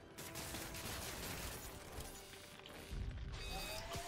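Turret gunfire in Marvel's Spider-Man for PS4 comes as a dense, continuous barrage of rapid shots and crashes under game noise, loud and unbroken throughout.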